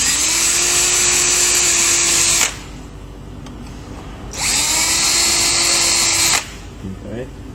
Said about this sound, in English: I'm going to drill them out.